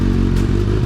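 Kawasaki Z900 superbike engine, just washed with engine shampoo, turning over and catching with a loud, steady low rumble and a clattery mechanical edge, very close and alone.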